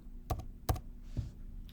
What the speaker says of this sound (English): So I'm going to press U on the keyboard, U.